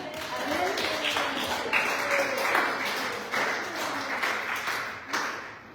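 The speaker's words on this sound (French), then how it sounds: "tu peux applaudir le Seigneur" A church congregation gathered for baptisms claps, a dense, moderately distant patter of applause spreading through the room, with voices faintly mixed in as it gradually fades.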